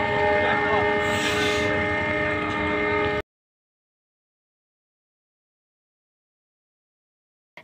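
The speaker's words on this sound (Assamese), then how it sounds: "এই ৰঙা ট্ৰেইনখন যে দেখিছে" A red train rolls past with a loud rumble while its horn blares in sustained tones, then everything cuts to silence halfway through.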